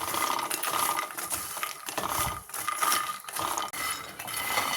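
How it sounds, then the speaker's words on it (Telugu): Makhana (fox nuts) roast in a pan over a slow flame, giving a dry, rattling, scraping clatter as they are tossed and stirred, close and continuous with no voices. "ఇవి వేసుకొని స్లో ఫ్లేమ్లోనే ఫ్రై చేసుకుందాం అండి"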